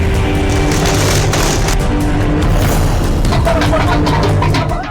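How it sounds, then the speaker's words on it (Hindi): Firecrackers burst at an outdoor election victory celebration, a dense, continuous crackle of overlapping pops and booms with a rumbling crowd-like din beneath, loud throughout. "कहीं पटाखे फोड़कर खुशी"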